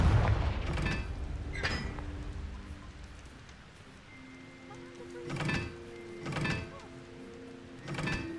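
Confringo fire spell blasts going off in the Hogwarts Legacy video game, several broadband bursts spaced a few seconds apart over a low rumbling backdrop, moderately loud with no talk.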